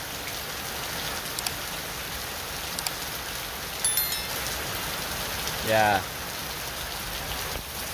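Heavy rain falls in a steady, dense hiss over a stadium field under construction, unbroken for the whole stretch, with a brief spoken word and a few faint knocks partway through.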